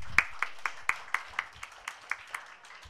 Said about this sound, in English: Can I please get a round of applause for our high achievers?